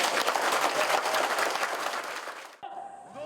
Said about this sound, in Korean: 우리 모두 영예롭게 시작하는 1282기 해병대를 위해 큰 격려의 박수를 보내도록 합시다